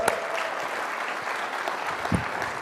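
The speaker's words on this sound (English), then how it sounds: "Give them a round of applause, please." Audience applause at a real estate association meeting, a dense burst of clapping from a crowd that holds steady throughout the short stretch.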